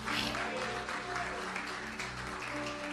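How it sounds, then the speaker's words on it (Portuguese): A church congregation claps together after a worship service prayer, a steady wash of many hands under a sustained organ-like tone, moderately distant and unbroken. "Vamos dar uma salva de palmas em nome de Jesus"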